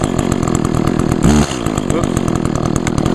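An Echo chainsaw, about four years old and heavily used, runs loud and close, its engine rising in a brief rev burst before dropping back to a steady fast idle.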